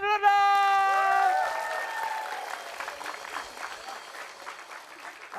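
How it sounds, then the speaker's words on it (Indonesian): A sustained voiced tone opens, then a studio audience at a TV variety show breaks into broad, steady clapping that gradually fades. "Tepuk tangan dulu dong."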